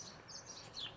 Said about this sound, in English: listen to all the beautiful birds